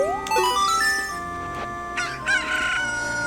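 A Cucco chicken from the video game Ocarina of Time crows a rising cock-a-doodle-doo, followed by a few shorter electronic clucks and squawks over a steady game music backdrop.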